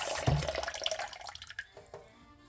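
Warm water running and splashing from a tap into a container while beignet dough is being prepared, a close, bright, continuous stream that thins into scattered drips and small clinks.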